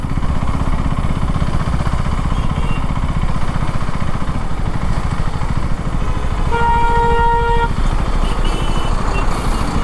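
2025 KTM Duke 390 Gen 3 motorcycle engine pulling on an open road, a loud steady engine drone throughout with a brief horn-like tone near the end and no talking.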